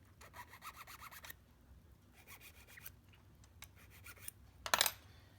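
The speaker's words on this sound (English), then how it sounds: "Just sand the post down on all four sides." A small metal post on a Märklin 352 J wagon is filed down, with quick rhythmic rasping strokes in bursts, close but faint, ending in a brief louder scrape.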